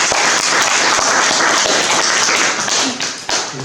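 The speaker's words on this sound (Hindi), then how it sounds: "चलिए हम लोग एक बार अरुण सर को फिर से ताली से" A seminar audience in India applauds the presenter with dense, sustained clapping that fills the room for several seconds before thinning slightly toward the end, with a few sharper individual claps standing out.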